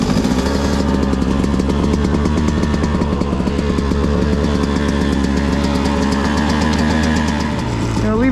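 A 2022 Beta 200RR Race Edition two-stroke dirt bike fires up and runs with a loud, close, steady buzzing idle, then dips at the end.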